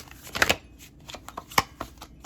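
Tarot cards riffle and slap together in a few quick bursts, with scattered soft taps between them, close up.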